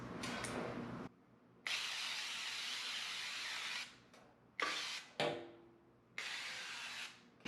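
Non-stick cooking spray hisses onto a pan in a kitchen, several close bursts of varying length separated by short pauses, the longest lasting over two seconds.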